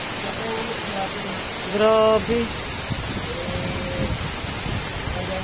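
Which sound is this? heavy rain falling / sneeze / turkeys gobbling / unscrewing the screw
heavy rain falling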